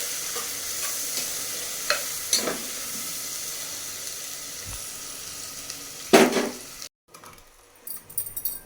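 Vegetables for a vegetable biryani sauté in a pan with a gentle continuous sizzle, punctuated by a few close, sharp scraping stirs, then a brief hush before more clatter near the end.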